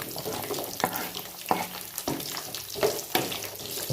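Shallots go into hot oil with garlic for a village-style mushroom masala, sizzling steadily under repeated sharp scrapes and stirs of a spoon against the pan, close and moderately loud with no talking.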